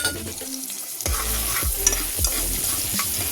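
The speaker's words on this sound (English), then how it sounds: "Saute up with onion and garlic." Onion and garlic sautéing in a pan, a bright sizzle with repeated low stirring knocks and scrapes from a utensil, close and loud, with no one talking.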